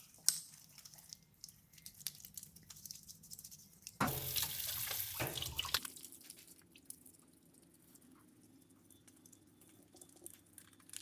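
Oily hands are washed at a sink using soap from a wall dispenser: faint dripping and squishing, then a short burst of running tap water in the middle, then quiet rubbing and drips.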